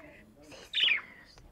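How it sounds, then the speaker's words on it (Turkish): A baby bird gives a few short high chirps, close and soft, with one louder burst of tweeting in the middle and light background murmur. "burada kuşumuz var. Yavru çok tatlı değil mi?"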